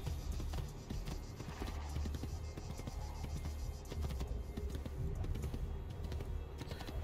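Horse hooves clip-clop steadily in Assassin's Creed 2, a dense continuous patter of footfalls close by that carries through the whole stretch with no talking over it.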